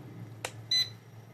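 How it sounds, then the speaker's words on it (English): A short electronic beep from an RC ERA C138 helicopter transmitter for a 1/33 scale Bell 206 confirms a setting locked in; a brief click comes first, then one clear high tone, close and fairly quiet. "once you do a long press again, it'll long beep, and then that lets you know that the code, or I mean your new standard is locked in"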